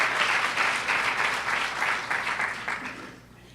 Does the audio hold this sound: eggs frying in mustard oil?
no